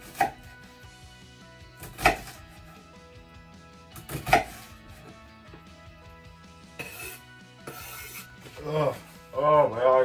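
Onion being chopped on a board in a home kitchen, sharp knife thuds at irregular intervals, then a quicker run of cuts near the end, set against steady background music.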